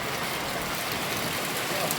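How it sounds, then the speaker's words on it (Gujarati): Heavy rain pours down in a dense, continuous hiss that stays loud and even throughout. "તો આ વરસાદ બરોબરનો ચાલુ થઈ ગયેલો છે."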